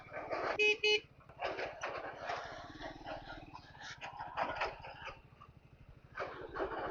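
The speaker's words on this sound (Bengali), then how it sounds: "একটা হর্ন মারি" Short vehicle horn honks sound near the start over a steady engine rumble on a muddy off-road trail between Nepal and India, followed by mixed outdoor noise.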